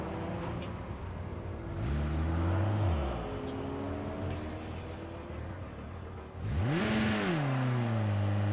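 A car engine in the racing game Project Cars 2 revs and drops off, its tone sliding down to a stall, then revs back up with a rising and falling whine, loud and continuous.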